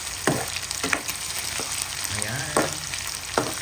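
Garlic and ginger frying in a pan for adobong sitaw, a steady close sizzle broken by spatula knocks, with a short spoken word in the middle.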